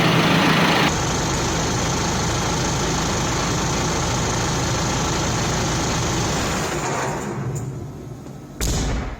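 A car engine runs steadily and loudly up close, a dense continuous rumble that fades out near the end before a brief burst.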